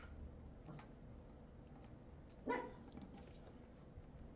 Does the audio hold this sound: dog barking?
yes